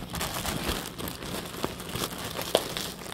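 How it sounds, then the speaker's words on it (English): A plastic enclosure crinkles and crackles steadily up close as it is ruptured, with a few sharper pops and tearing snaps toward the end. "That was the sound of me rupturing the plastic enclosure."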